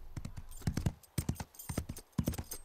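Cartoon horse hooves clip-clop in quick irregular clusters of sharp knocks, close and fairly quiet, with brief pauses between groups.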